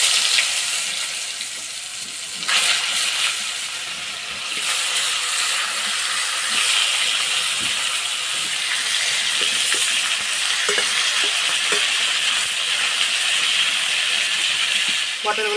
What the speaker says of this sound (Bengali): পটলগুলো চাপা দিয়ে ভেজে নেব।